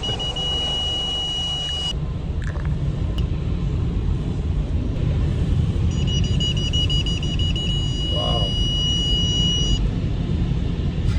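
Parking sensors on a Mercedes Vito W639 van inside an automatic car wash in France, steady high electronic beeping tones that stop and then return, over a loud continuous rumble and wash of spraying water and brushes.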